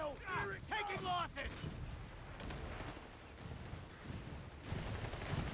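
In a World War II strategy video game, a 259 half-track variant fires its autocannon in repeated sharp bursts, with more distant fire behind and a voice talking over the opening moments.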